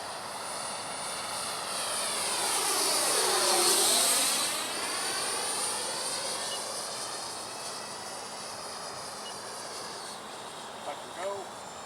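An FMS Avanti 90mm EDF sport jet model flies past with a high ducted-fan whine that rises as it nears, peaks overhead with a clear Doppler sweep and fades into the distance.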